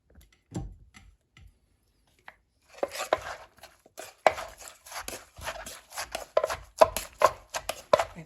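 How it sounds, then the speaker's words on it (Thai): A cucumber salad with blanched squid is pounded in a mortar, giving a run of sharp, dry, woody knocks in an uneven rhythm, close and fairly loud after a few quieter taps. "ตำแตงนะคะ ตำแตงหมึกลวกวันนี้หมึกลวกขนมจีนลวก"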